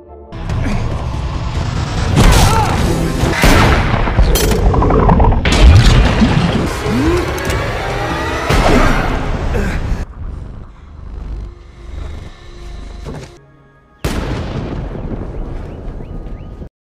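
Heavy gunfire in a violent shootout scene from a film set in a flooded world of 2029: loud, dense booms and sharp bursts with crashing impacts. There is a brief lull near the end before the firing resumes.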